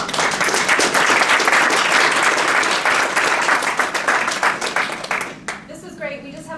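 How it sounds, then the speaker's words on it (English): An audience applauds after a panel discussion on greening vulnerable communities, steady dense clapping for about five seconds that thins out and fades, followed by a voice beginning to speak. "We give a round of applause."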